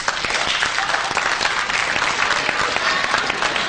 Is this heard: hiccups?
no